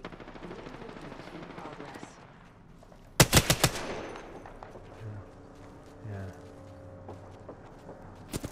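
Gunfire in the video game Apex Legends: a sharp rapid burst of shots rings out loud amid quieter distant firing and game noise, with a voice talking now and then.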